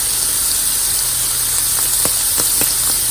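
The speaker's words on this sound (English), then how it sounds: "Listen to that sizzle." Steady hissing sizzle of fried potatoes and scrambled egg in a pan, constant and close, with a few faint pops and clicks.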